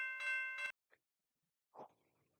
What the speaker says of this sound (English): the bells activate when it's coming back up